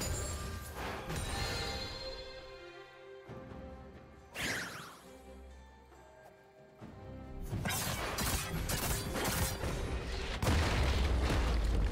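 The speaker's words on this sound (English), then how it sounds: "Red team's turret has been destroyed." Heavy crashes, booms and whooshing impacts from a League of Legends match as a turret is destroyed, with loud bursts at the start and a second dense surge of smashing near the end.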